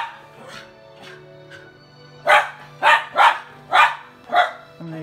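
A Miniature Pinscher barks excitedly: a few soft whines, then five sharp, loud barks close by in quick, uneven succession.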